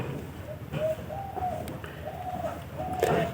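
Pigeons coo softly in a loft, with several low, rolling calls repeating at a relaxed pace over a quiet background hum.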